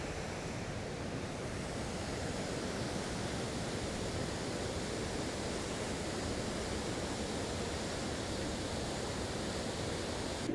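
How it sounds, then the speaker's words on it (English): Kegel Waterfalls and the river near the Margaret River mouth make a steady, loud, dense rush of falling and flowing water that holds constant throughout, with no voices. "This is called the Kegel Waterfalls"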